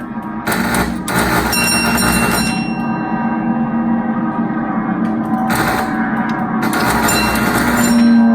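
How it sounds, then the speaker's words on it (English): Keeney Air Raider arcade game ringing its bell on hits, bright metallic rings repeating in bursts over the machine's steady mechanical drone, loud and close. "every time you hit it, you get the bell"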